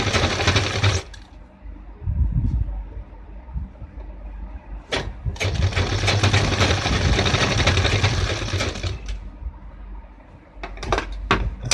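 A sewing machine stitches a waistband belt loop on a pair of men's formal trousers, running in steady bursts of motor whir with short pauses and a few clunks between, fairly close and loud.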